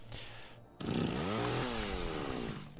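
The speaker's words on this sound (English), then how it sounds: "keep your chainsaw close to your heart" A chainsaw in the video game Escape Academy revs up suddenly after a brief gap, its engine whine rising and then holding at a loud, steady drone.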